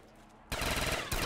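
The Madhouse 72 rifle from Black Ops 3 custom Zombies fires in a loud, rapid burst after a brief quiet moment, with a short gap before firing resumes.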